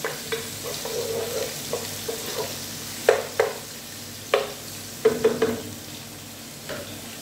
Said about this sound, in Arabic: أول شغلة طبعا أحطها زيت الزيتون، وأنزل عليها البصل. خليه يتشوح مع بعض.